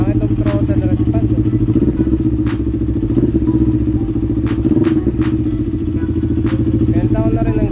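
A CF Moto NK400 motorcycle engine idles steadily and loud at close range, its throttle blipped in a few short revs, with light clatter over the low drone.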